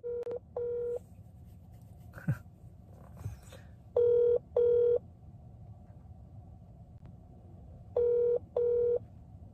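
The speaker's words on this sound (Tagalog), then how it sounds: "Ringing" Outgoing phone call ringing: repeated double ringback tones in pairs, with quieter gaps and faint background noise between the rings.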